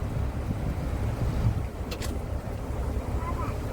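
A boat pulls up to a jetty in the Sundarbans with a continuous low engine rumble under buffeting wind, a short high chirp partway through, and faint voices in the background.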